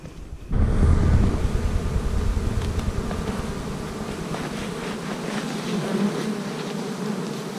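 Dense buzzing of honey bees swarming around a beehive in a grassy field, a steady close swarm hum filling the whole clip after a quiet opening, with light wind over the microphone.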